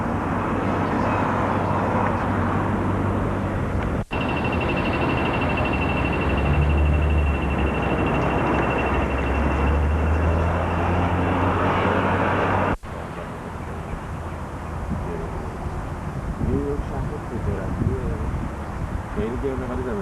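An airplane passing overhead gives a steady, broad engine drone with a thin whining tone, cut off abruptly partway through, while people talk nearby.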